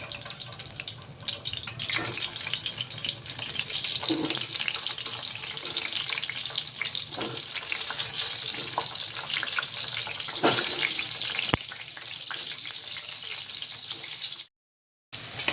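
Stuffed tinda (dhemas) frying in two spoons of oil, a steady broadband sizzle and hiss that holds evenly throughout, with a few soft clicks of the vegetables shifting, and no talking.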